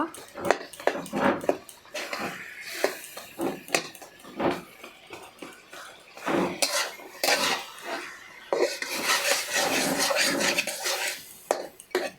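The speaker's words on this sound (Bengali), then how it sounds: "মাছের মাথাটা একটু ভেঙে দেব।" A hilsa fish head is broken up in a cooking pan as a curry simmers. A spatula jabs, scrapes and clanks against the metal in uneven bursts, with short pauses between the strokes.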